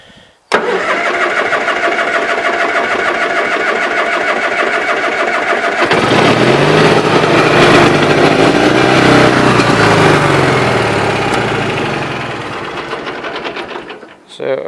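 A 20-G engine, likely a small Gravely, cranks with a steady starter whir for several seconds, then catches and runs loud and rough close by, with a stuck throttle linkage or governor, before shutting off near the end.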